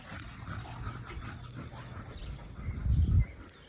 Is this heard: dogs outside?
yes